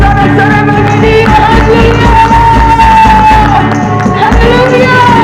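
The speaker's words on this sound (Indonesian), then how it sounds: "Berikan sorak-sorai bagi Dia." A church congregation during a Sunday worship service shouts and cheers in praise, a loud, dense wall of voices and whoops over ongoing music, with no break throughout.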